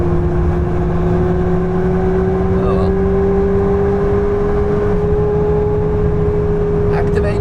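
Race car engine held at full throttle in a video game, a steady loud drone with a slowly rising tone through a long straight, with talk over it.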